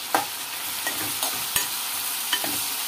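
Tamarind is stirred into okra curry in a pan, with steady sizzling frying and a few sharp utensil scrapes against the pan at irregular intervals, no voices.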